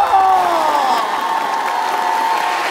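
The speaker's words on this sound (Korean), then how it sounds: "최고의 큰 박수로 한 주시기 바라겠습니다" Studio audience on a Korean TV talent show breaks into loud applause and cheering with whoops as a contestant walks out, sustained and dense throughout.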